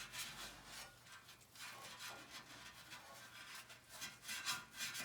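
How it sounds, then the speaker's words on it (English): Steady scouring pad or steel-wool-type pad rubbing and scraping a pellet stove surface, a continuous rasping scrub with repeated strokes at moderate level, no voices. "So you're just scraping that part with your Just hand?"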